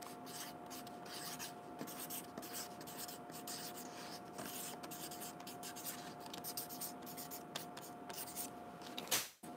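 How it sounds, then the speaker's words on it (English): A marker scratches across a piece of paper in a long run of short squeaky strokes, close and steady over a faint hum, ending with a sharp tap or clack. "let me write it on this piece of paper with a marker"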